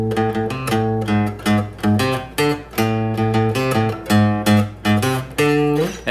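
Electric guitar plays a riff alone, with rhythmic alternate-picked notes in short repeated phrases, loud and close.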